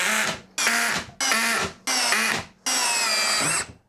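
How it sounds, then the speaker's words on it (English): A Ryobi cordless drill with a small battery runs in 2nd gear, driving a bit through wood in five loud, whirring bursts separated by short pauses, the last burst held longest. "last drill, Ryobi. 2nd gear,"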